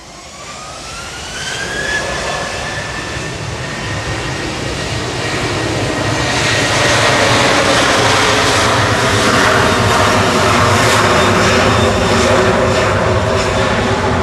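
A Boeing 737-800 airliner departing Manchester Airport for Budapest spools up with a rising whine, then swells into a loud, sustained jet roar close by, growing heavier toward the end.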